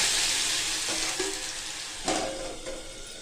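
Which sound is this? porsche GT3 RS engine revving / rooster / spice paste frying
spice paste frying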